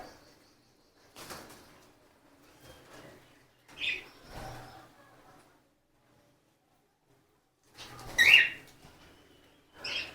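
Pet yellow-sided conures in a home bird setup give sparse, sharp chirps, with a couple of brighter calls separated by quiet gaps and soft rustling movements.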